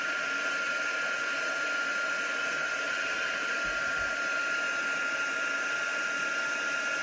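A heat tool blows steadily at close range, melting clear embossing powder on a card, giving a constant loud airy whir with a steady whine throughout and no speech.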